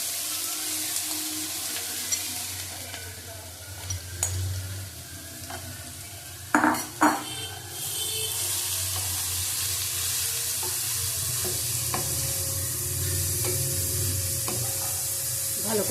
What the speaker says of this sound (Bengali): ভালো করে ভেজে নেব। গাজরটা দিয়ে দেবো, গাজরগুলি দিয়ে দিলাম।